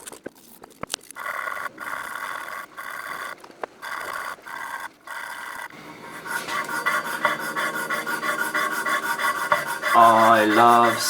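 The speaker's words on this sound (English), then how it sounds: "I'm just going to re-sand all the solder off" Sanding by hand strips solder off copper watercooling tubing, a dry rasping rub in short strokes at first, then a steadier continuous scrubbing that builds louder near the end.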